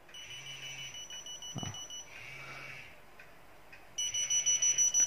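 A Nokia 8310 mobile phone rings with a repeating electronic tone pattern in short bursts separated by brief gaps, fairly quiet and close, with no voices over it.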